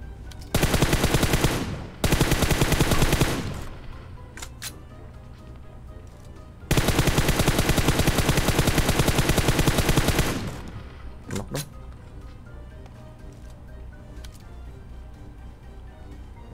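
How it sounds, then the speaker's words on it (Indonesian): Automatic gunfire in a video game comes as two short, loud bursts of rapid fire, then one long sustained burst. A few isolated shots are heard between them, with faint talk underneath. "Iseng doang nembak."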